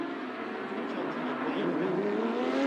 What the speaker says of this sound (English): the brilliant sound of that engine, frankly, even when it's fired up and ticking over,